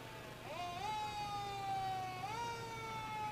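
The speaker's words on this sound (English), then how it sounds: "Old Caruthersville Fire Engine number 1, making its way down the street right in front of us here." An old Caruthersville fire engine, Engine number 1, sounds its siren while rolling down the street in a Christmas parade, two rising wails settling into a sustained tone, moderately distant over low crowd and street noise.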